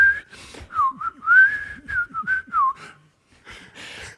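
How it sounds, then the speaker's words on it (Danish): A man with a new hip whistles a cheerful, bouncy melody close by while walking through a forest, the tune breaking off briefly before some louder rustling at the end. "Alligevel har han overskud til at fløjte en glad melodi."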